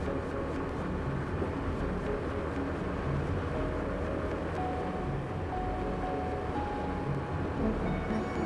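A train passes at a steady distance, heard during a motorbike ride through Gazipur's countryside; a continuous low rumble and rolling noise holds throughout, moderately quiet, with no speech.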